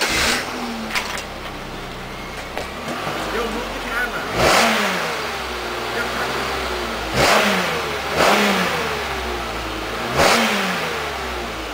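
A Chevrolet Malibu Maxx engine revs repeatedly through its exhaust, several sharp bursts rising and falling over a mid-pitched idle, heard close with someone talking briefly.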